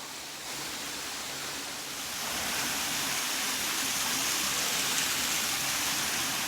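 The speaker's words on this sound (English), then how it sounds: "There's the waterfall." Steady broadband rush of falling water, a continuous hiss that swells slightly after a couple of seconds, with no voices.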